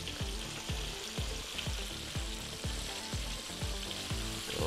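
Fish frying in oil for a sweet and sour dish, a loud continuous sizzle crackling close by with regular bubbling pulses, no talk.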